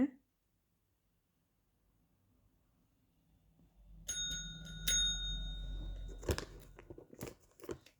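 A small bell rings a few times during Maine Coon cat training, bright and close, among crunchy chewing noises and a low background rumble after a quiet start.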